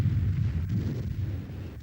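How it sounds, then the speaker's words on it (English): A V-1 flying bomb detonating on impact with the ground, a heavy low rumbling blast that rolls on and slowly decays, loud and alone without voices. "It fell to earth only when its fuel ran out, this being signalled by its sudden silence before it impacted with the ground in a great explosion."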